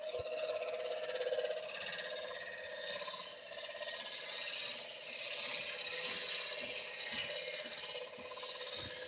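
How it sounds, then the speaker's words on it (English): A wood lathe spinning a wooden cheese platter while a tool makes a push cut toward the center: a steady whirring hum with a high, continuous scraping hiss, close and even throughout. "I'm just going to give a little push cut. We're going to go slightly dish toward the center."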